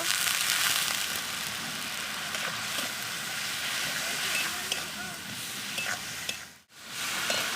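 Bengali egg curry masala with turmeric, salt and a splash of water sizzles loudly and steadily in a pan, with stirring scrapes throughout and a brief drop-out near the end.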